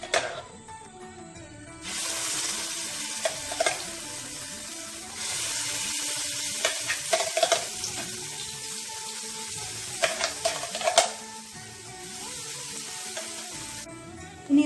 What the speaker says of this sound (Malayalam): നെയ്യ് ചൂടായിട്ടുണ്ട്. നമുക്കിതിലേക്ക് പഴം ഗ്രൈൻഡ് ചെയ്ത് വെച്ചത് ആഡ് ചെയ്ത് കൊടുക്കാം.